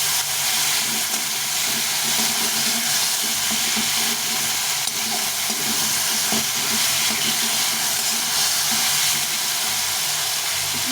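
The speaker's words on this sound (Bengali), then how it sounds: "নরম নরম করে টমেটোকে ভেজে নিতে হবে" Chopped tomatoes with a pinch of salt fry in a pan, giving a steady, even sizzle and hiss that holds at a constant level throughout, with no voices.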